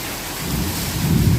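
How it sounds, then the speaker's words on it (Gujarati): Steady rain pours during a thunderstorm while a deep roll of thunder rumbles up and builds louder through the short stretch, with no voices present. "ગાજ વીજ સાથે હો"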